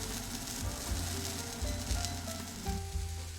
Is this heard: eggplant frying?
yes